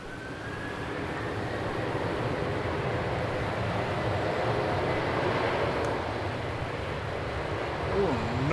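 A Qantas Airbus A330-200 jet, bound for Singapore, rolls for takeoff at Melbourne Airport with a steady broadband engine roar that holds the whole time and builds slightly near the end.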